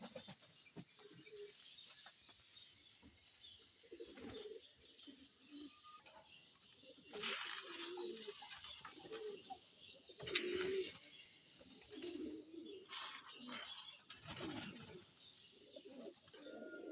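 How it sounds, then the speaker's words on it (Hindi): Pigeons and other birds gathered at scattered grain and bits of roti, cooing low and chirping over one another in a steady outdoor chorus, with sharper bursts of calls and flutters now and then. "ये देखें जी, परिंदे दाना खाने के लिए बिल्कुल बेताब हो रहे हैं।"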